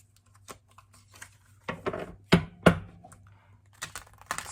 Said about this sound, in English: Let me shuffle like this first.